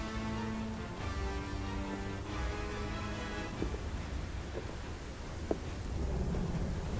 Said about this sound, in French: L'effet de pluie est toujours aussi magnifique